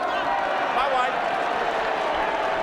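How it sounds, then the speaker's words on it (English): Rugby league crowd of Canberra Raiders supporters at a 1999 match against Balmain Tigers, a broad continuous roar filling the stadium, steady and loud throughout with no distinct claps. "A roar of the crowd from the Raiders supporters here"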